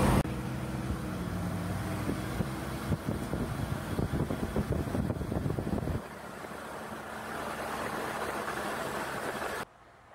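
A converted vehicle named Nugget drives along the road, its steady engine and road rumble continuing with some wind noise, the drone easing partway through before cutting off near the end.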